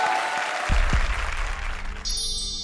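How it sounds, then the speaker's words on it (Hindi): A television studio audience bursts into applause for a pair of performers after their scores are read out, loud at first and then easing as music comes in near the end. "जोरदार तालियां राजीव और सलोनी के लिए"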